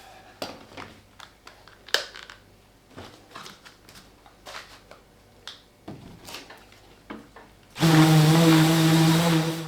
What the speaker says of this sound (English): just a bit of sanding to just finish it all off